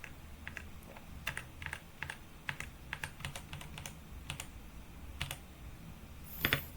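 Typing network configuration commands on a computer keyboard: a steady run of sharp, close key clicks in irregular bursts with short pauses, ending in a firmer keystroke, with no talking.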